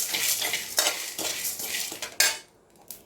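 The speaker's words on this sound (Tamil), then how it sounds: "நல்லா வாசனை வர வரைக்கும் வறுத்துக்கோங்க" Ingredients being dry-roasted in a pan for bitter gourd pitlai, with steady scraping and stirring of a spoon against the metal pan and a light crackle, a few sharper clinks, then fading near the end.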